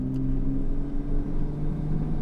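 A Nissan 240SX engine hums and drones steadily from inside the moving car, a close, continuous rumble with a faint whine and no voices.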